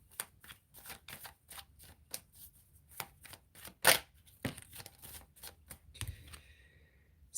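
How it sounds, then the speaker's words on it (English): Tarot cards being shuffled up close, a quiet rapid run of riffling flicks and soft slaps in an uneven rhythm, with one sharper snap midway and a few louder shuffles toward the end. "I dropped a couple cards."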